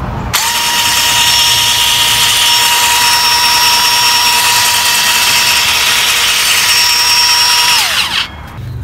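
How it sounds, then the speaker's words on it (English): Battery-powered Sun Joe 24V cordless mini tiller churning garden soil in a flower bed, a loud steady high-pitched motor whine held for about eight seconds before cutting off abruptly, with no talking. "Let's try out the tiller in this flower garden, and we're going to break up some soil"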